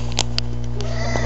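Indoor cat giving a few short, faint meow-like sounds over a steady electrical hum, with no talking.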